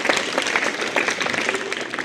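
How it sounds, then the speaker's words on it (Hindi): A school audience at a government secondary school welcome event breaks into dense, loud applause, many hands clapping together continuously for a couple of seconds. "तो जोरदार तालियां हो जाए आकाशदीप के लिए।"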